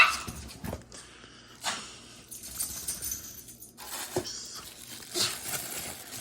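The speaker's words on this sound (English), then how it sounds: "My dog's barking." A pet dog barks in a few sharp bursts indoors, fairly close, with faint rustling and clinking between barks and no talk.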